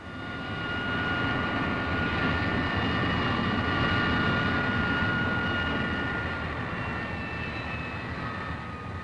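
A US Air Force F-111A jet at Nellis Air Force Base, Nevada, gives off a loud, steady engine roar with a whining tonal edge, holding nearly constant for the whole stretch, with no voices.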